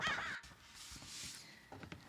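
Crows caw outside in a short harsh burst at the start, followed by fainter calls and rustling in the background, with no talking.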